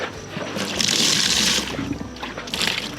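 Water is poured into dry animal feed on a farm. Short bursts of splashing and trickling come close by, with a louder pour in the middle and another near the end.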